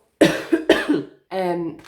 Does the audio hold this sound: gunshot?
no